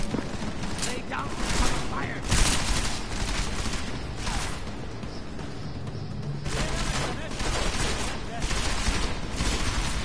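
Gunfire in the video game Deus Ex: Mankind Divided, with dense bursts of shots and booms over a loud, continuous game soundscape, close and sustained throughout.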